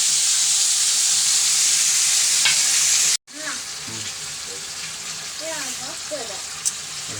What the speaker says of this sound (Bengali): এই যে মাছটা একটু তেলে একটু কষায় নেই